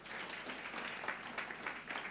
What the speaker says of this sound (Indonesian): Tepuk tangan buat Allah gitu.